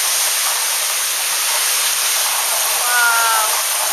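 Heavy rain shower pouring down in Florida, a dense, steady broadband hiss of falling water that stays loud and unbroken throughout.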